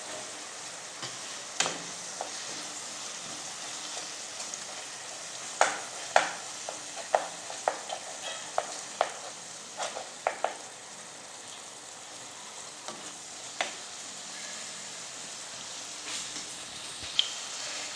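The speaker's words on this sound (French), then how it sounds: "Donc je mélange le tout." Seasoned filling for stuffed bread stirred in a pan, with a quiet sizzle beneath irregular scraping taps and clicks of the utensil, close and fairly soft, with no one speaking.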